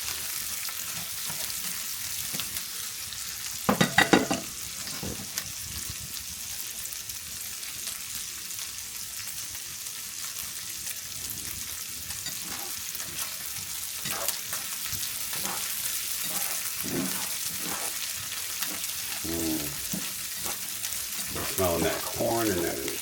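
Corn kernels fry in olive oil, butter and salt, giving a steady close sizzle with scattered stirring clatters and a few louder knocks from the pan throughout.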